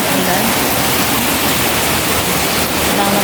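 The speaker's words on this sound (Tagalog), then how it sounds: "Sumasabay pa ang malakas na ulan at ang baha sa ating pagluluto." Heavy rain pours steadily during a flood while food is being cooked outdoors, a dense, loud and unbroken wash of noise that holds the same level throughout.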